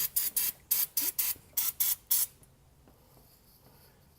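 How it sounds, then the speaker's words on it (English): A can of cleaner sprays in a run of short hissing bursts during a 1999-2006 GM truck oil change, about nine quick puffs in a rhythm, then a quiet room with faint background hum. "spray it right on there."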